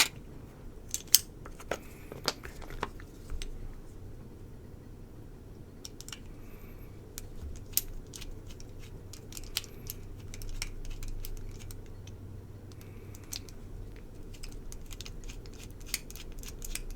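Small T6 Torx screwdriver working steel screws out of the scales of a Peña Bravo knife, giving scattered close clicks and light metallic ticks over a low hum, with quieter stretches between bursts.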